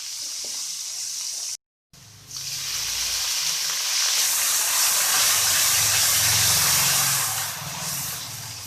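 Ginger garlic paste frying with onions in a hot pan for matar pulao, a loud steady sizzle that cuts out briefly, then swells into a stronger hiss as the paste hits the oil.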